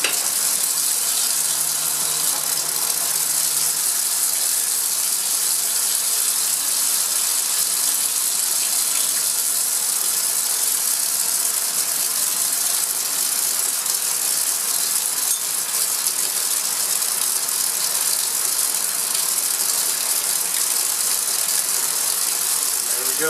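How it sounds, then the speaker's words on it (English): A vacuum pump runs during filtration in a benzoic acid preparation, a steady, hissing mechanical drone without a break, loud and close, with a faint rattling texture throughout and no voices. "And I'll turn on the vacuum, and we will get this thing filtered."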